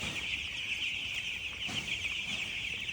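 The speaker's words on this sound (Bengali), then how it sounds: "ব্রয়লার মুরগির ফার্ম।" A flock of broiler chickens in a poultry farm house clucks and chirps continuously at close range, a dense, steady chorus with no talking.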